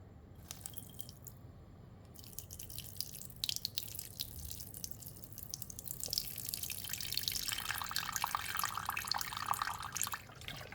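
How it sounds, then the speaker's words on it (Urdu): About one cup of water is poured into a container for a tea-bag hair dye, a faint, steady trickle and splash that grows fuller over several seconds. "یہاں پر میں نے 1 کپ پانی کا اس کے اندر ایڈ کر دیا۔"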